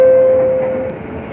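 Commuter train rolling toward Cikoya station with a steady rumble and a sustained tonal whine that cuts off partway, the overall sound gradually fading; no talking heard.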